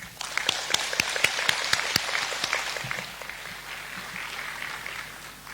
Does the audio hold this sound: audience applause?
yes